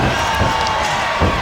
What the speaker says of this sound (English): I can hardly hear you over this capacity crowd here at the Taco and Margarita Festival